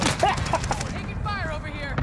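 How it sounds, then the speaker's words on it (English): Rapid gunfire in Warzone, quick sharp shots cracking in tight succession across a short burst, loud and close, mixed with game effects and a warbling tone. "Taking fire over here."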